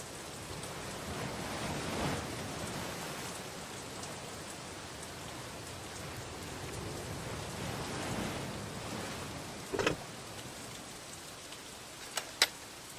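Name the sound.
rain falling in video game L'Œil noir: Les Chaînes de Satinav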